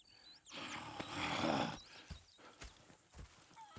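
Horses in Red Dead Redemption 2 snort and whinny, with a burst of broadband neighing and shuffling, then scattered hoof clops and soft thumps nearby.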